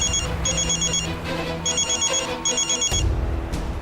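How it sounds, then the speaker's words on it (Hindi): An electronic phone ringtone repeats in short trilling bursts, loud and close, then cuts off with a thump near the end. "ससुर के सारे फोन आज ही बजे।"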